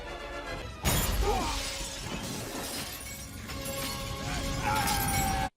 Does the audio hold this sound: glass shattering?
yes